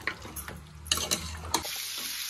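Mutton cooking with a steady sizzle and a few sharp stirring scrapes and clinks of a utensil against the pot, close up, with no voices.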